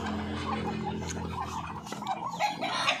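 Backyard farm ducks quack and chatter close by in the morning, with layered overlapping calls over a low steady background hum and no talking.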